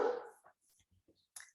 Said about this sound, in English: My dog's very vocal.